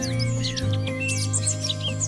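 Birds chirp in a forest at dusk, with several high twittering calls overlapping in quick bursts over a steady low hum, fairly close and clear.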